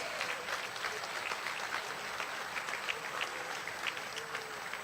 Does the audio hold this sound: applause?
yes